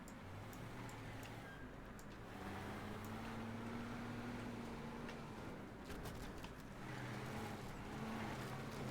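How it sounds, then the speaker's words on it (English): A truck engine in the video game Teardown drones steadily while driving, its pitch rising slightly then settling, faint and continuous throughout. "Okay, I'm gonna try moving this truck to a better position."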